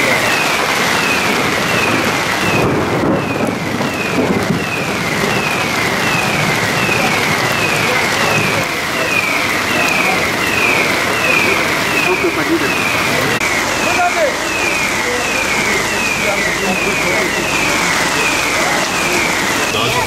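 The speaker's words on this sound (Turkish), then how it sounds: "5 senede daha böyle yağmur yağdığını görmedim." Heavy rain pours steadily during a flood that has put a town centre under water, a dense continuous wash of sound throughout, with people talking over it.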